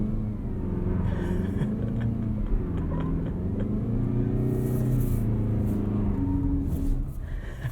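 A front-wheel-drive 2021 Mazda CX-30 on Continental VikingContact 7 winter tires spins a reverse donut in snow, with a steady engine drone and rumble that swells and eases, plus faint crunching, no talk.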